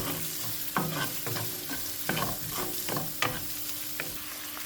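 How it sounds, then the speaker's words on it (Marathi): Onion being sautéed in a pan, a steady close sizzle broken by repeated scraping stirs at a regular rhythm, with no talk. "घालता कांदो आनी बरो सोते करून घेवपाचो"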